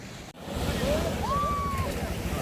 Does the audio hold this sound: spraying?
no